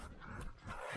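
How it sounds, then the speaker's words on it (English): Hunting dog on a feral pig hunt in New South Wales panting close by in short, steady breathy bursts, with faint outdoor background. "Good dog."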